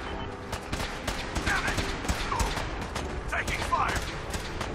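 Gunfire during Fallout 4 combat: repeated sharp shots in irregular bursts, fairly close and loud, mixed with mechanical game effects while voices speak between the shots.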